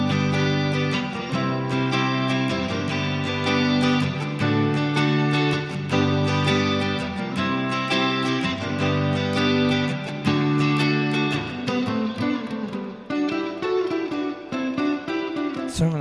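Guitar strums a repeating 1-4-1-5 chord progression, steady and fairly loud throughout with no voices.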